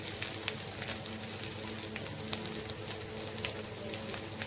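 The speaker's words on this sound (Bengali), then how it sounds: "দেখো পেঁয়াজটা ভালো করে ভাজা হয়ে গেছে।" Onions frying in a pan for a home-cooked curry, a faint steady sizzle with a few small crackles, quiet and continuous.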